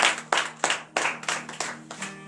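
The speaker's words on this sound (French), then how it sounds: "donnez de vive acclamation à notre Seigneur Jésus" Congregation clapping in acclamation at a morning prayer service in Benin, heard as about eight sharp, evenly spaced claps in unison, close and fairly loud, with a low steady hum underneath.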